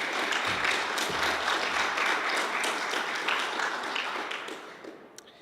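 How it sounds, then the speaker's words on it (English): Applause from an audience at a student society election after a candidate's speech, a sustained wash of clapping that gradually fades toward the end. "A round of applause."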